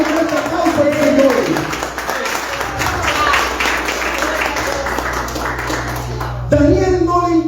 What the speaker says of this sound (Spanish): dale fuerte aplauso al Señor